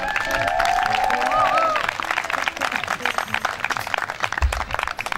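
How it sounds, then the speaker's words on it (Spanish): An audience applauds at a country music show in Argentina, the clapping strong at first, then thinning and becoming more scattered, with a voice speaking over the crowd noise early on. "mejor ese aplauso, con más incentivo"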